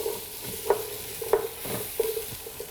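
Sweet potato and vegetables such as leek and mushrooms sizzle in a pot while being stirred, a steady soft frying hiss broken by several clacking stirs at irregular intervals.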